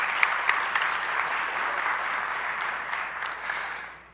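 A school honors night audience claps in a dense, steady round of applause that fills the room and tapers off toward the end, with no talking over it.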